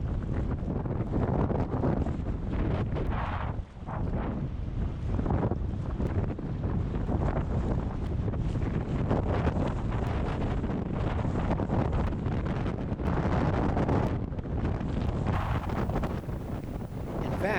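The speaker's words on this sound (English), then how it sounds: "it was so windy that you had to paddle the air currents as much as the water" Strong, steady wind buffets the microphone on the Middle Fork Salmon River in Idaho, a constant loud roar with gusty surges throughout and no clear voices.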